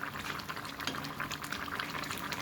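Rohu fish curry with potatoes bubbles in the pan as the gravy reduces, a dense, soft, continuous simmering burble at close range.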